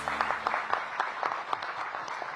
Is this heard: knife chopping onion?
no